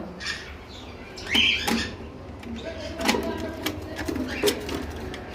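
A pair of nesting birds on a farm give short, scattered chirps and squeaks at close range over a low background hum, with a voice talking nearby.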